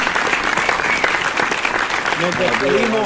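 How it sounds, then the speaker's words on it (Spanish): Applause for the reggaeton artist Sech on a talk show, a dense, steady wash of clapping from the studio audience lasting a few seconds, with voices rising near the end. "un aplauso al verdadero rockstar, a Sech"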